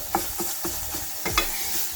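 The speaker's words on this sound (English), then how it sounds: "you're basically just going to saute this for a little bit until you can really smell it" Green curry paste sautéing in a hot pan, a steady sizzle broken by several quick scraping strokes of a utensil, close and moderately loud with no voices.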